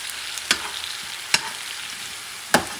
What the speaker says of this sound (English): And mix everything up